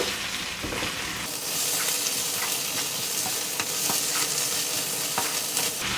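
Prawns fry with onions in a pan for an Andhra-style prawn fry, producing a loud, continuous sizzle near at hand with occasional stirring scrapes.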